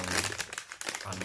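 Packaging of a new microphone being unboxed: close, continuous crinkling and rustling of wrapping, loud and dense through the whole short moment, with a few firmer crackles.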